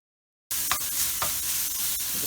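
Pork dropped into a hot pan with ginger and garlic bursts into a loud, dense sizzle after a brief silence, with a couple of spatula scrapes as it starts stir-frying.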